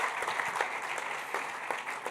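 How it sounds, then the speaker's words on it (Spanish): An audience at an electoral event breaks into applause, a continuous, fairly faint crowd of hands clapping with scattered sharper claps poking through, no talk over it. "Así es que yo les pido un aplauso muy fuerte"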